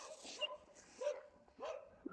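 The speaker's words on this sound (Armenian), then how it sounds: "էլի են գիժը հաչում է" A dog barks in a few sharp, separate bursts spread over a couple of seconds, fairly close, with quiet gaps between.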